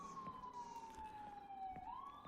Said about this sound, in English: Getting this ambulance coming by, just making all this noise